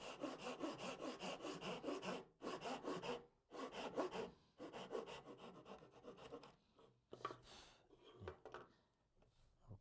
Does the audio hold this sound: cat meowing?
no